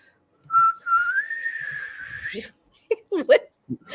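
A person whistles a wavering, sustained tune imitating a Gregorian chant, then breaks off into short bursts of laughter and voices.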